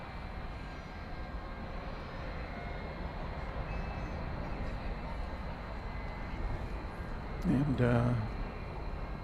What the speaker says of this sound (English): This is the 757 we saw touching down just a few minutes ago.